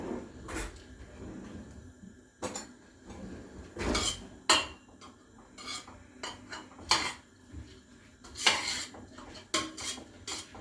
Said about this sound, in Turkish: Mercimeğin rengi sararana kadar bunu bu şekilde kavuracağım.